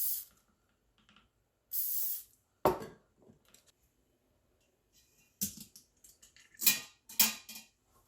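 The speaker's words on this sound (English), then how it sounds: "So it says spray with cooking spray." Several short hissing bursts of aerosol cooking spray onto corn dogs for an air fryer, near and crisp, separated by quiet pauses and a few light clicks.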